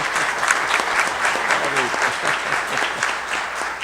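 Sustained applause from an audience at a municipal council ceremony, a dense, even patter of many hands clapping throughout, with voices faintly mixed in.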